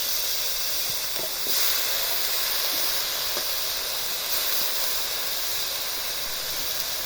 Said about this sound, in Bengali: এখন সবজিগুলো দিয়ে দিবে, আলু, টমেটো আর পেঁয়াজ দেন, সবে দিয়ে দেন।